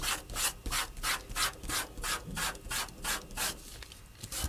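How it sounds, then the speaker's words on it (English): A finger firmly burnishes glitter onto stamped paper, producing a steady series of quick, close rubbing strokes in a regular back-and-forth rhythm, with no talking. "now I'm gonna take my finger and I'm gonna burnish it"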